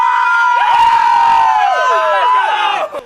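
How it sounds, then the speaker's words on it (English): A crowd of children shouts a loud, sustained cheer, the "Krispy Kreme scream," in unison. The shrill chorus of voices holds for about three seconds and then tapers off abruptly. "we're getting ready to do the Krispy Kreme scream"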